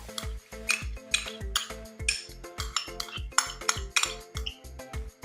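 A spoon stirs yogurt starter into milk, scraping and clinking against a metal pot in a quick, steady rhythm of close, distinct strokes with no talking.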